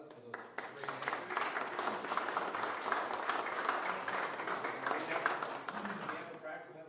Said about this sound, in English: Round of applause for those great answers.